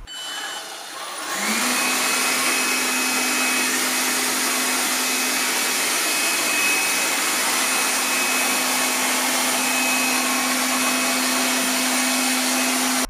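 A Lefant F1 robot vacuum cleaner spins up into powerful suction mode and runs as a loud, continuous, even whir with a sharp motor whine and rushing air, close by, with no voices.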